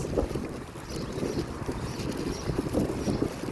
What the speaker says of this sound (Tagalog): Yung hangin malakas.